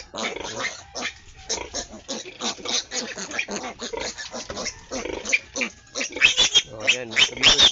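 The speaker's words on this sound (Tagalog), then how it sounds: "Ika 8 days na ng aming mga alagang mga biik." A litter of hungry 8-day-old piglets squeals and grunts continuously, wanting to suckle. The dense, overlapping calls stay loud and close throughout.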